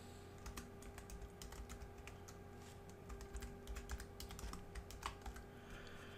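Faint, steady keystrokes tap on a computer keyboard as login credentials are typed, a long run of quick, light clicks at close range with a low hum underneath and no speech.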